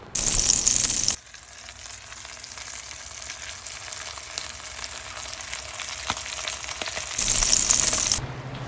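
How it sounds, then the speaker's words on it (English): Pork belly strips crisp in a hot cast iron skillet with a continuous close sizzle and spatter, while a few sharp clicks and knocks from handling sound over the frying. "we're going to crisp them up in that same cast iron skillet we were cooking the onions in"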